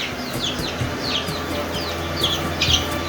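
Chickens cluck and squawk repeatedly in short bursts, fairly close, over a steady background hum.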